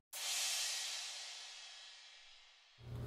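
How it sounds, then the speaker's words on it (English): A spiral cymbal is struck once and rings with a bright, hissing wash that slowly decays for nearly three seconds before a low thump cuts it off. "So here's the spiral cymbal."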